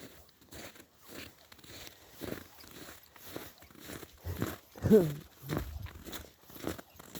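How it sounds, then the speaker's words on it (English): Footsteps crunch through snow on an outdoor walk, a steady series of soft, gritty treads close to the microphone, with one louder crunch midway and faint background noise. "Oh, snow's so crunchy."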